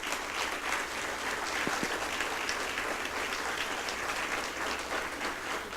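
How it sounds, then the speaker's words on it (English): An audience at a spoken word poetry presentation applauds with steady, dense clapping that holds evenly from start to finish, without voices over it. "Let's give some applause for the men who wrote those words"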